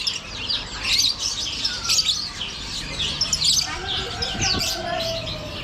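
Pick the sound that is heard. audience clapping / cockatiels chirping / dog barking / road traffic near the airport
cockatiels chirping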